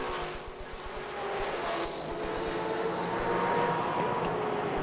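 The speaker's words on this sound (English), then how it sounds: "The roar, the rumble. The big cars are up front, mixing it with the Porsches and Mazdas." Pack of Pontiac, Porsche and Mazda GT race cars roaring past at the green flag, a dense, sustained engine rumble that swells louder toward the end.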